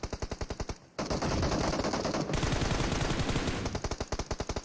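Rapid automatic gunfire rattles through a PUBG Mobile team fight, loud rhythmic bursts that blur into dense overlapping shooting in the middle before settling back into a steady fast cadence, with no talk over it.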